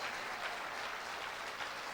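A church conference audience applauds, a steady wash of clapping from many hands, fairly distant and subdued, with no clear voices above it.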